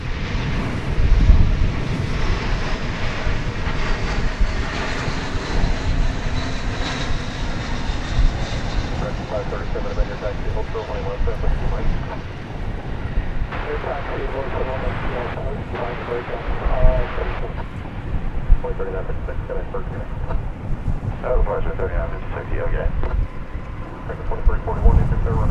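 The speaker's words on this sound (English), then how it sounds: "Flight number 1261, an Airbus A321 from Kansas City" An Airbus A321 arriving at DFW Airport from Kansas City, its engines a loud, continuous roar that swells and fades slightly across the whole stretch, with a voice talking over it.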